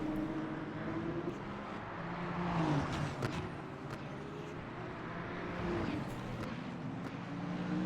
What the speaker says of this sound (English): The number 31 BMW driven by Nigel Wood versus the number 54 Ferrari driven by Xander Wiesing